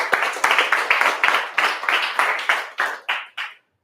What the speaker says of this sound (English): Round of applause for Simon from Art Connect.